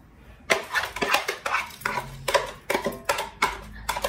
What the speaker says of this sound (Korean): 먼저 밥을 넣어주시는데 제가 오늘은 200ml 네, 한 컵 준비했죠.